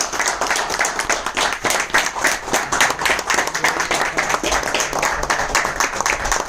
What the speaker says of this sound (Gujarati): જોરદાર સ્વાગત કરજો એમનો તાળીઓથી